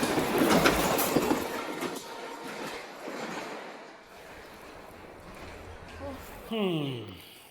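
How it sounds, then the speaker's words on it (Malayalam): A train rumbles past nearby with rattling, clattering wheels, fading gradually, before a voice starts speaking near the end. "അങ്ങനെ ഒരു ട്രെയിൻ കൂടി കടന്നുപോയി"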